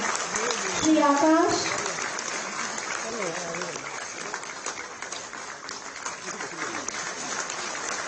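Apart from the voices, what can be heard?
loud applause at a public ceremony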